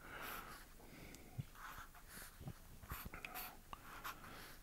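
A pen draws on paper with soft, irregular scratching strokes and small taps. The sound is very quiet and close, with light breathing in between.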